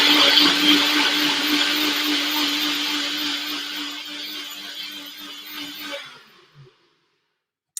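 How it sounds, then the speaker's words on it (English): NutriBullet blender whirring loudly as it purees a sauce, a steady high motor whine that slowly eases before cutting off abruptly, leaving near silence and a small clatter at the end. "Do you want me to do that because my NutriBullet's a little bit finicky?"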